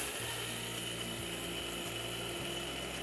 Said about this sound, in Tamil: உளுந்து அரிசி ரெண்டையுமே நான் மிக்ஸி ஜாரில் மாற்றிட்டேங்க.